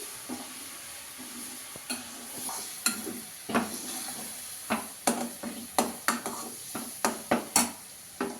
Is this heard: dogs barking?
no